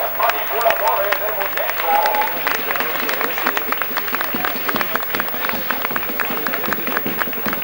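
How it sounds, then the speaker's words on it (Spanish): A street crowd at a Cádiz-style chirigota carnival performance applauds the puppeteers, dense continuous clapping mixed with crowd murmur and voices, fairly loud and sustained. "Un fuerte aplauso para los manipuladores de"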